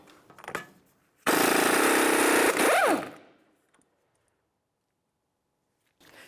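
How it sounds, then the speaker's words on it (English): A loud burst of an impact wrench rattling for about two seconds as it removes a 30mm axle nut on a 2002-2005 Ford Explorer, spinning down with a falling whine, then quiet. "Let's remove our 30mm axle nut."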